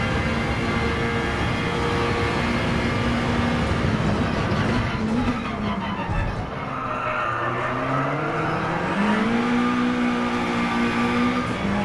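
A race car engine in a racing video game holds a loud, steady high drone, dips and rises in pitch as the car slows and accelerates again, and stays up close throughout.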